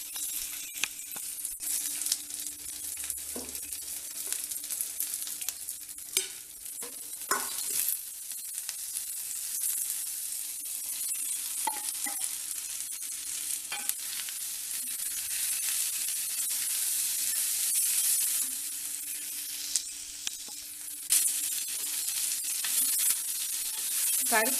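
Onion, ginger, and green and red chilies fry in a pan with a soft, steady hiss, and a few scrapes from stirring come through now and then.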